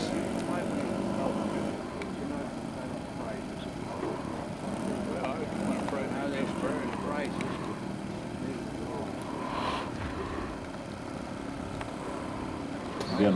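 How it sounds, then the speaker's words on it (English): World War II B-25 bomber radial engines drone during a flight demonstration at a Yuma fly-in, a steady distant propeller roar with a commentator talking over it. "These are pretty good size engines in this."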